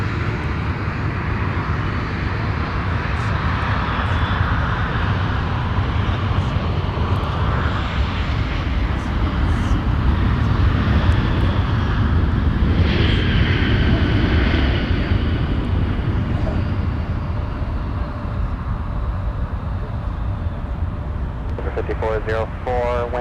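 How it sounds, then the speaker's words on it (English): A Sun Country airliner from Los Angeles touches down at Minneapolis–St. Paul airport, its engine roar loud and sustained across the landing, easing slightly toward the end while people talk over it. "Sun Country touching down from Los Angeles."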